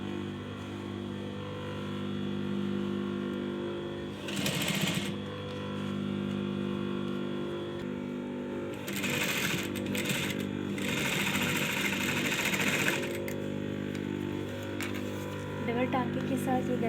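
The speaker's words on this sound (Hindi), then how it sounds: "अब हम इसको ऊपर से सिलाई कर लेंगे।" A sewing machine runs in short and longer bursts, topstitching the lined neckline of an A-line shirt, whirring steadily over a constant background hum.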